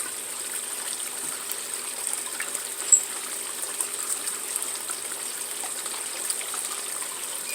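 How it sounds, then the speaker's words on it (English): Water runs steadily through a gold sluice box during a cleanup, a continuous close rushing and trickling flow with small splashes, with no talking. "Let this sluice run for a couple minutes."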